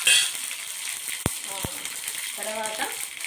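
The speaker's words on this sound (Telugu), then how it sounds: "తాలింపు వేస్తున్నాను" Cumin, mustard seeds and chillies hit hot oil and sizzle and crackle steadily at close range, with two sharp metallic taps of a utensil partway through.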